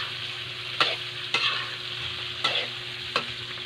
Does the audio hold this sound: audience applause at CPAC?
no